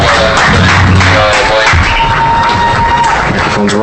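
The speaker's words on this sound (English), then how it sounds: "let's give a big round of applause to our football seniors" Applause and cheering from a crowd at a high school varsity football game, honoring the football seniors; a loud, steady wash of clapping and voices filling the whole moment.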